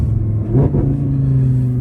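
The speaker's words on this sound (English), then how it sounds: "I do like the sound of the exhaust." An Audi R8 Competition, a rare final first-generation model, with its engine and exhaust revving close by: a steady low rumble that swells in a brief rising rev near the middle, then settles back into a sustained drone.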